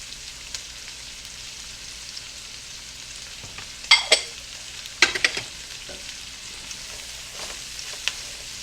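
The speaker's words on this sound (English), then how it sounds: "it's going to take about 10 minutes for these onions to get nice and soft, and you want them browned" Onions cooking in a skillet until soft and browned for smothered pork chops, a low steady sizzle with two bursts of louder scraping and stirring midway, then quieter again.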